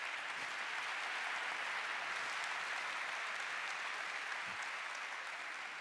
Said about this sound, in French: ce parcours mérite un tonnerre d'applaudissements